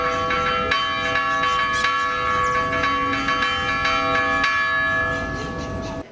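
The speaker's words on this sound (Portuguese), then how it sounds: "o Toque dos Sinos, que é um patrimônio imaterial" Church bells ring out in São João del-Rei, Brazil, a loud sustained bronze clang with several overlapping strikes and long humming overtones, steady throughout and alone without talk.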